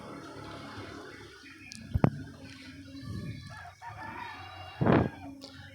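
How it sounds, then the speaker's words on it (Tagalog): Backyard pet chickens and young chicks cluck nearby, with one louder crow-like call and scattered chirps over quiet ambient noise. "At yan nga yung ating mga alagang sisiw dyan"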